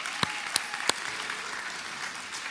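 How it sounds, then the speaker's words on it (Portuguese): Audience applause for Brunão at a live stage show, a light spread of clapping with a few sharp isolated claps standing out, steady and moderately distant, no voices over it. "Salva de palmas também para o Brunão"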